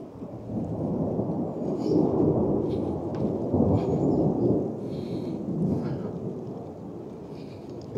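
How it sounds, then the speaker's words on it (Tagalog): Steady rain with a long low rumble of thunder during a storm in Germany, a dense broad roar rising and falling over several seconds, with faint light rustling on top and no talk. "Guys, palaging ulan ng ulan dito ngayon sa Germany."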